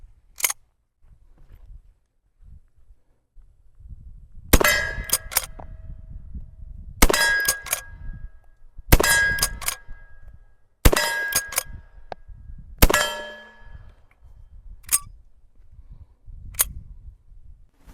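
Suppressed Uberti Model 1873 rifle shots ringing off a steel target, about half a dozen sharp metallic clangs spaced a second or two apart, each with a bright ringing tail, over quiet outdoor background.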